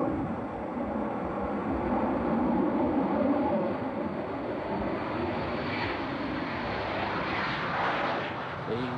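A fixed-wing airplane drones overhead, its engine roar swelling and holding steady for several seconds before easing slightly, heard alone without talk.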